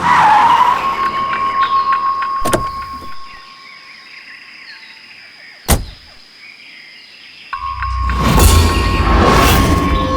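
A car with punctured tyres skids to a stop, with sharp bursts of noise over a steady tone followed by a loud, rough roar near the end.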